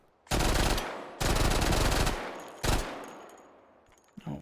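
Full-auto gunfire in the VR shooter H3VR, three loud close bursts of rapid rattling shots separated by brief pauses, the last burst shorter and fading into quiet handling noises.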